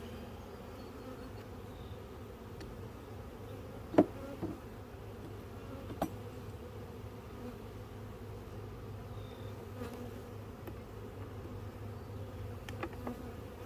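Honey bees hum in a steady, dense drone around an open hive in a bee yard, with a couple of sharp clicks and knocks from hive tools rising briefly above the buzzing.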